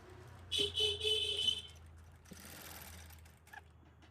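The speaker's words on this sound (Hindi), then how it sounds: "ये हमें कच्ची सिलाई लगानी है।" A home sewing machine runs a long basting stitch during a tailoring lesson on attaching piping, one steady mechanical whirring burst of about a second, close and fairly loud, then quieter handling sounds.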